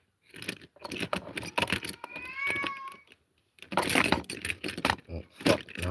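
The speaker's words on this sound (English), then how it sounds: "you guys hear my cat?" A pet cat meows in a drawn-out, wavering cry indoors, mixed with jangling and clattering handling noises and a person talking.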